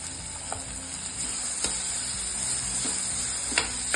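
Green peas sizzle in a pan with tomato and onion, a steady bright frying hiss broken by occasional soft clicks of a spoon stirring, moderately close, with no speech.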